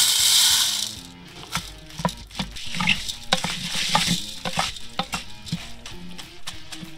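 Butter coconut oil and popcorn kernels heat in a kettle corn popper as a stirrer scrapes and clinks, giving irregular metallic taps and light sizzling after an opening hiss.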